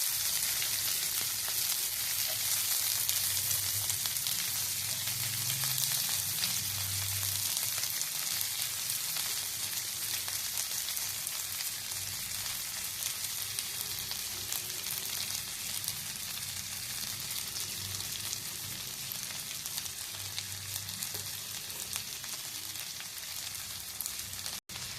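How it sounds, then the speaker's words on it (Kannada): Cut cluster beans fry with garlic in a pan over a low gas flame, a steady close hiss and crackle of sizzling oil that runs continuously throughout, with no talking. "ಉಪ್ಪು ನೀರಲ್ಲಿ ತೊಳೆದಿಟ್ಟು ಕಟ್ ಮಾಡಿದ ಚೌಳಿಕೋಡು ಹಾಕಿ ಗ್ಯಾಸ್ ಸ್ಲೋ ಅಲ್ಲಿಡಿ"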